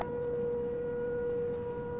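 A steady, sustained civil-defense tornado siren in the Garry's Mod tornado mod holds one loud, unbroken wail with a strong harmonic tone throughout, over a low rumbling background.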